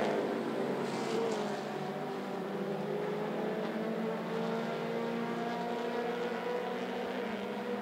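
Mini stock race cars racing at 411 Motor Speedway, a continuous blended engine roar from several cars held at a steady level, fairly distant, with no talk.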